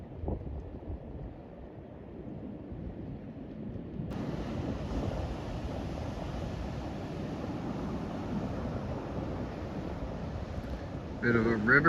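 Surf breaks at a river mouth on the Big Sur coast, a steady wash of waves under heavy wind noise that swells louder partway through, with someone talking briefly.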